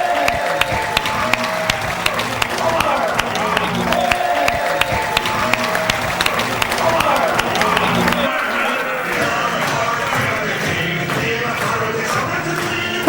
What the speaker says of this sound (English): give a huge round of applause as he comes to the stage